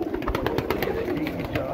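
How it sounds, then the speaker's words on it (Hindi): Feropuri breeder pigeons in a Lahore loft coo in a steady, continuous murmur, close by and fairly loud, with a soft background rumble. "माशाल्लाह ओरिजिनल फिरोजपुरी कबूतर है"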